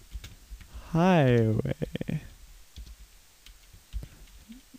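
Light clicking keystrokes on a computer keyboard, scattered and fairly faint, follow a brief exclamation and continue under a quiet voice.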